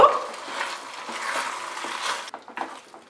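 Fried egg manchurian being tossed in a pan, soft scraping and rustling sizzle with a few light knocks of the food against the pan toward the end, close and moderately quiet.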